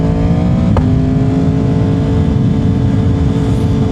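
A stock 2021 Yamaha R1 with a Two Brothers exhaust idles loud and close, a steady engine drone with one sharp blip of the throttle just under a second in, then settling back to a constant rumble.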